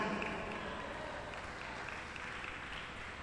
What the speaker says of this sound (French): c'est bien de vous entendre applaudir